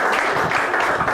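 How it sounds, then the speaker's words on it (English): A bar audience at a literary night applauds steadily, dense clapping and cheering filling the room continuously and fairly loud throughout. "I'm here to elicit applause for no reason."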